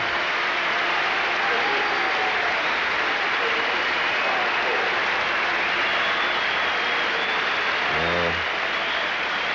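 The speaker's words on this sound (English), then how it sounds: "A big cheer from this monstrous crowd" A huge crowd at a World Series Cricket match against Australia roars and cheers in a loud, steady wash that fills the whole stretch, with a brief voice rising near the end.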